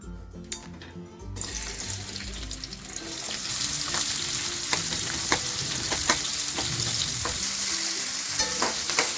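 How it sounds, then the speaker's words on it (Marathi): Masala frying in two spoons of oil in a kadhai for restaurant-style matar paneer, a dense steady sizzle with repeated stirring scrapes and clinks, close and loud, growing fuller after the first few seconds, no talk. "आता आपल्याला मसाला चांगला याच्यामध्ये परतून घ्यायचा, म्हणजे थोडासा शिजून घ्यायचा।"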